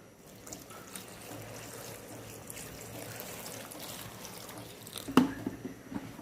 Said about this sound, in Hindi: तो अभी हम इसमें जो 1 लीटर पानी है वो ऐड करेंगे।